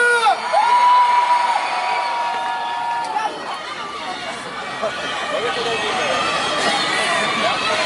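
A crowd at an outdoor park concert in Ansan in 2015 cheers and shouts continuously, with whoops and a dense wash of voices filling the whole stretch at a steady, loud level.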